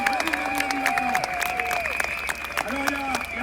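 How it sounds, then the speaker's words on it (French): A crowd at a police demonstration outside the National Assembly applauds in uneven bursts, with voices calling out over the clapping. "Je vous demande, applaudissez-le, c'est pas évident pour lui."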